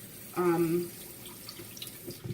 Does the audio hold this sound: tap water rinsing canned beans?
yes